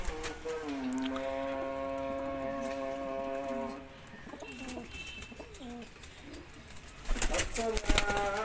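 Pigeons coo in steady, repeated low calls for several seconds, followed by softer rustling and a burst of clattering noise near the end.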